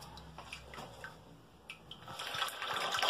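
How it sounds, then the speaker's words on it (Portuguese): A toilet flushing after a new complete Astra side-button flush kit has been fitted, heard as quiet trickling water followed by a rising rush of flow that grows louder toward the end. "Ó, gente, tinha dado aquela descarga."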